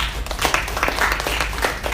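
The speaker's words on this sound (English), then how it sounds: "Big round of applause for that." Brief round of audience applause during an entrepreneurship webinar, a short burst of scattered clapping at moderate loudness with no talk over it.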